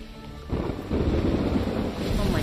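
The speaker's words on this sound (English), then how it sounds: "look, it's raining" Rain and thunder in the video game Lost Ark, with a low rumbling swell that kicks in sharply and then holds as a dense, steady wash of rain and wind.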